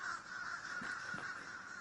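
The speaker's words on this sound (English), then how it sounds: "Now, when crows fly away," Crows in the video game Vigor caw as they fly off, several harsh caws in quick succession at moderate distance over a low, steady ambient hiss.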